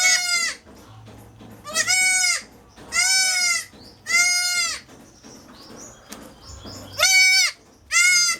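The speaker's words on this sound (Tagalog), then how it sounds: "Sinungay yung kambing ko." A goat bleating loudly and close by, six drawn-out wavering calls spaced about a second apart, with quiet pauses between them.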